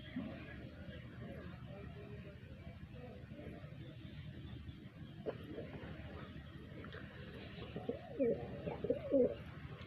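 Pigeons cooing softly at a distance while being fed grain, with faint chirps and a low steady background murmur, and a few clearer coos near the end.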